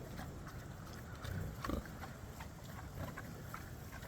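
Berkshire hogs crunch and chew their feed close by, with quiet, irregular crunches and chomps over a soft background hiss.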